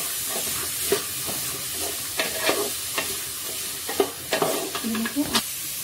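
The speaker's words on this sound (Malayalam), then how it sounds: "ഇനി ഇതെല്ലാം മിക്സ് ചെയ്ത് നന്നായിട്ട് ഇളക്കി കൊടുക്കുകയാണ് ചെയ്യേണ്ടത്." Banana stem stir-fry (unnikambu upperi) is stirred in a pan over a constant sizzle, with repeated scrapes and knocks of the spoon in an irregular rhythm, close and moderately loud.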